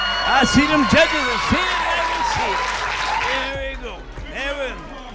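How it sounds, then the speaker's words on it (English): Crowd applause at a Golden Gloves boxing championship, a steady wash of clapping and cheering from the audience underneath a loud announcer talking over a microphone throughout. "Good round of applause"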